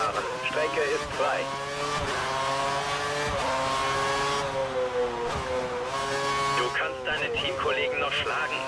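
Formula 1 race cars in the F1 2013 game pass by in turn, harmonic engine whines rising and falling steadily over several seconds with a loud, continuous drone and brief dips as gears shift.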